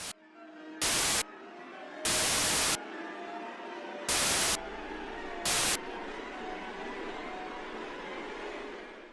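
Glitchy static effects open a horror film, with a continuous hiss and low rumble broken by four sharp, loud bursts of full-band noise at irregular intervals, with no voices.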